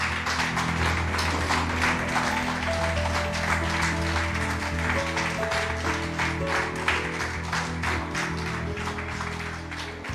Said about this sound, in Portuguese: Damos um aplauso para Jesus.